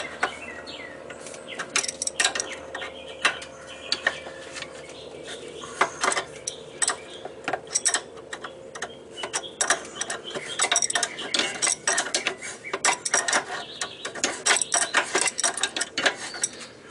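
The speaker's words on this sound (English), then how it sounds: "So I'm just going to use my metric crescent wrench." A metric crescent wrench working a bolt on the valve cover of a 2005 Mazda Tribute / Ford Escape 3.0L V6, irregular close metallic clicks and ratcheting clanks in uneven bursts, no voices.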